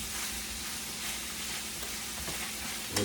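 Ground hamburger meat for lasagna fries in a pan with a steady, close hiss and crackle, a constant sizzle throughout and a small clink near the end.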